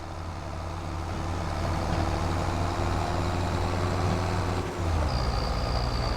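A New Holland tractor engine in Farming Simulator 25 drones steadily and fairly loudly, with a low rumbling idle-like hum that holds constant, a brief dip near the end before it resumes.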